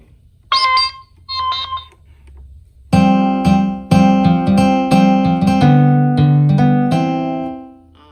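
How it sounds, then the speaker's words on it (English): Synthesized guitar patches from a keyboard rig in a home office: two short plucked tones, then a run of sustained, chiming chords that ring out and fade, fairly loud and with no voices. "I have a couple guitar sounds here."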